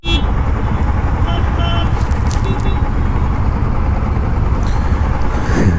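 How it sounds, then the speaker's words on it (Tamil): Saturday road traffic in Bangalore near Bellandur, heard from a motorcycle: a continuous close rumble of engines and tyres, with occasional higher passing tones rising out of the din. "ஃபுல்லாக வந்து டிராஃபிக்காக தான் இருக்கும்"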